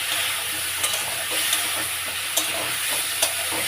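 Radhuni and cumin paste fry in a pan with a steady hiss and sizzle, broken by a few soft scrapes of stirring, close and continuous with nobody speaking.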